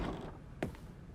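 Office doors in The Stanley Parable close with a soft mechanical creak, then a single sharp latch thud, heard faintly and alone.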